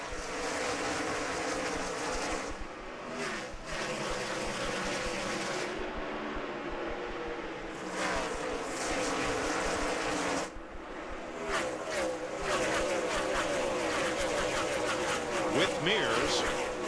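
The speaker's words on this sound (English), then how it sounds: "Getting set for the restart, Casey Mears got the free pass on this" At Bristol during the 2007 Food City 500, a pack of NASCAR Cup cars roars off a restart, loud engines droning and surging together with a commentator talking over them.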